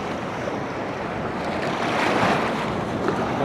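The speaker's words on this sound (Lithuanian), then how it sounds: "Šiandien banguota." Rough sea waves wash around a fishing kayak out past the surf line, a steady close roar of surf and splashing water mixed with wind buffeting the microphone, with no talking.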